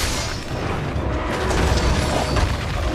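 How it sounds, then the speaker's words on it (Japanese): A loud, continuous explosive roar with crackling and rumbling from the action game Monster Hunter Rise, filling the whole moment without pause. "全部連射して爆発するのかな"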